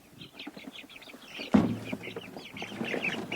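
Young chicks peep and chirp repeatedly while being moved into an outdoor pen, with a bump of handling noise partway through and the chirping continuing close by.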